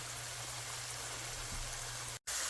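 Steady, dense sizzling of sweet potato cubes frying in hot oil, a continuous crackling hiss with no voices, briefly cutting out near the end.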